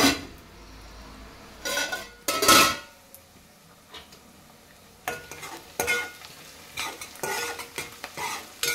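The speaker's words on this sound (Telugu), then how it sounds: "ఇది చూడండి, ఉల్లిపాయ మంచిగా వేగిపోయింది." Onion, green chili and curry leaves frying in a pan for gongura chicken, with a soft sizzle under intermittent scraping stirs and clinks of a utensil against the pan, no talking.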